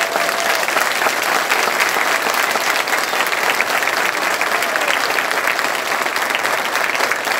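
Loud, dense applause from a concert audience at a Christmas concert, steady sustained clapping from a large crowd filling the space.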